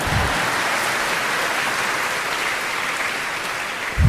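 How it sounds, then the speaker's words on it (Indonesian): An audience at a public speech applauds in a dense, sustained patter of clapping that carries on evenly throughout. "Boleh tepuk tangan."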